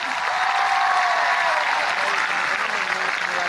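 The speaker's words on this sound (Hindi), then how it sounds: "जोरदार तालियां लगा के दिखा दो, अच्छे लगे तो।" Loud, dense clapping from a large crowd gathered for the Rajiv Gandhi rural Olympics event in Jaipur, a sustained roar of hands that stays strong and close throughout.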